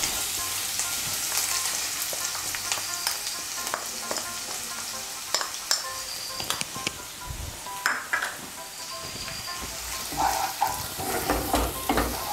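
Spice paste with chili and cumin powder fries in a pan for a Bengali fish curry with cauliflower, crackling and sizzling steadily while a utensil scrapes and taps the pan now and then.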